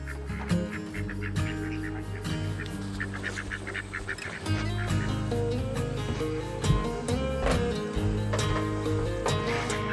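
Ducks quack and honk repeatedly in a garden during a fall harvest, loud and close, with overlapping calls from a small flock throughout.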